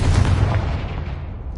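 A Confringo fire spell in the video game Hogwarts Legacy goes off as a short, heavy explosive boom that rumbles and fades out over about a second and a half.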